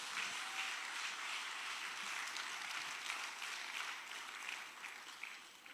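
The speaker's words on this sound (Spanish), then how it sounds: "Dele fuerte el aplauso a Dios, hermano." A congregation applauds during a church service, a steady wash of clapping that stays fairly faint and distant for several seconds, with no talking over it.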